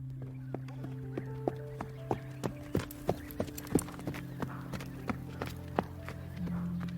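A white horse's hooves clop in a slow, uneven rhythm of distinct thuds, moderately close, over a soft sustained ambient music drone with no talk.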